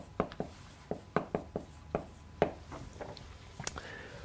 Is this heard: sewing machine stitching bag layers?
no